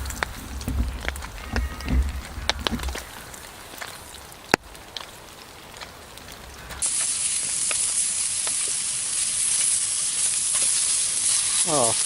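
Steak sizzles on a portable outdoor cooking setup, starting as a sudden, steady broadband hiss partway through and holding loud and constant to the end, after quieter handling sounds.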